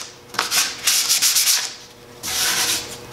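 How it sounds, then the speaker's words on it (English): Someone hand-sands the first finish coat on the aged hardwood veneer of a 70-year-old cedar chest with a quarter sheet of 220 grit sandpaper, making a few raspy back-and-forth strokes with short pauses between them. "by taking a quarter sheet of 220 grit sandpaper, that roughness can be knocked back down."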